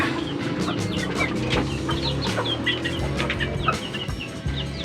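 Several chickens, including Rhode Island Reds, cluck and murmur nearby in a backyard coop, with short sharp calls scattered over a low background hum; no one speaks.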